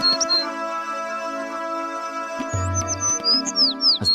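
A bird chirping loudly, with short bright tweets and quick rising chirps in bursts over a steady tonal musical background, fairly close and clear.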